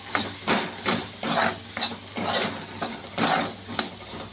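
Coriander powder stirred and sautéed in a pan for masala pav, with a spoon scraping in steady repeated strokes over a soft sizzle, close up and without speech.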